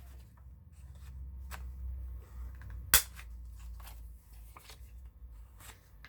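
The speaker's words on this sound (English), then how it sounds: "it is very loud with this corner chomper" A corner chomper punching through a paper corner for a junk journal makes one sharp, loud snap up close, with faint paper rustling and handling before and after.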